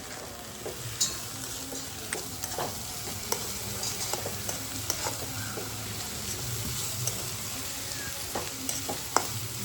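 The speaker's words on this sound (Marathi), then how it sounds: "हलवायची भाजी आता काय जोरातच आहे आजी." Vegetable curry with potatoes stirred and fried in a pan, with a steady sizzle and repeated scraping stirs throughout, close and fairly loud.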